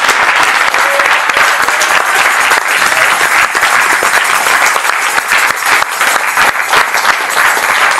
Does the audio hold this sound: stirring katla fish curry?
no